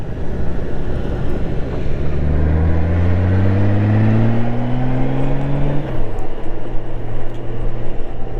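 A Harley-Davidson Pan America and a 2016 BMW 1200 GS ride together, engines droning loud and close under heavy wind rush. The engine pitch climbs steadily as they accelerate, then drops abruptly near the end.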